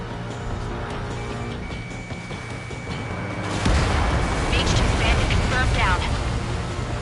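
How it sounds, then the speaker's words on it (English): Heavy fire pounding a harbor in Ace Combat 7, rising from a low rumbling bed into a loud, sustained wash of explosions and booms, with voices talking over the din. "The harbor's under heavy fire!"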